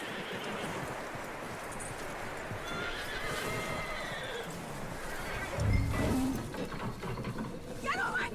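A skittish horse in Red Dead Redemption 2 neighs and whinnies loudly while hooves shuffle, with other game sounds in the background.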